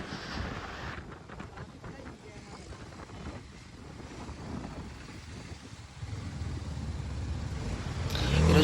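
Heavy morning city traffic passing around a rider on a BMW G310RR motorcycle, a broad rumble of engines mixed with wind buffeting the microphone, swelling louder toward the end.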